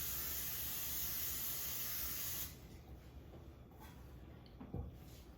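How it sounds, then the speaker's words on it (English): Vegetable cooking spray hisses onto two baking pans in a kitchen, one close, steady burst lasting a couple of seconds before cutting off, followed by faint handling noises. "I'm going to take my 2 pans and I'm going to use some vegetable spray."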